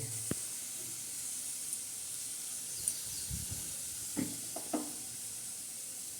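Garlic and onion sauté in a pan for an egg curry, giving a steady soft sizzle and hiss with a few faint clinks and scrapes of stirring.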